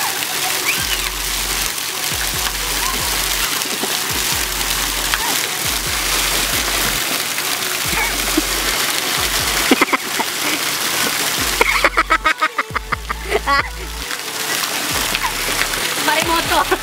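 Splashing water effect for a simulated tidal wave at a planetarium, a sustained broadband wash with surging bursts, heard under ongoing speech.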